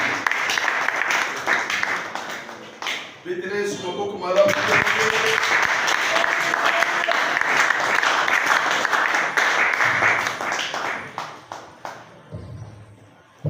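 Congregation in a church hall applauding as the pastor comes forward, sustained steady clapping with a crowd murmur throughout, briefly mixed with a sung or spoken voice near the start, fading toward the end.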